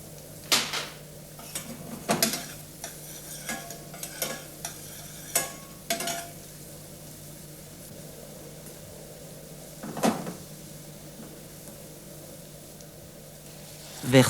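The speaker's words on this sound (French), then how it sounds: "Faites dorer les échalotes." Shallots browning in a pan give a soft, low sizzle broken by repeated sharp clinks and scrapes of a utensil stirring against the pan, each knock distinct and close, with no talk.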